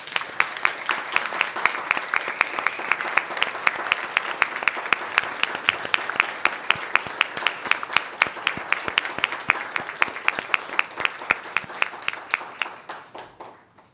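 A school board meeting audience gives a standing ovation to donors, a dense, sustained roar of clapping that stays strong for most of its length before tapering off near the end.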